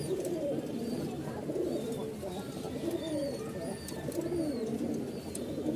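Pigeons kept for sale coo steadily in a low rolling chorus at close range, with a flock murmuring underneath and occasional faint higher chirps.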